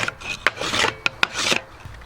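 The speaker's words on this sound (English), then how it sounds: "you can use a block plane like I've got here." Block plane shaving a wooden wedge, a series of raspy strokes with sharp clicks between them, close and fairly loud, with no talking.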